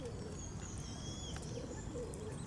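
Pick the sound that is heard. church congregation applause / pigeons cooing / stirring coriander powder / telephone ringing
pigeons cooing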